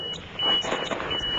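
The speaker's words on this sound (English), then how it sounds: "Really cheesy turn signal sounds." A turn signal beeper on a CT70 clone motorcycle chirps with a thin, buzzy electronic tone, a short run of repeated beeps close by with engine-like rumble underneath.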